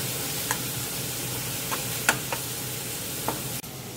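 Kimchi pork belly fried rice stir-frying in a pan: a constant soft sizzle with several sharp scraping clicks of a spatula against the pan scattered through, and one louder knock near the end.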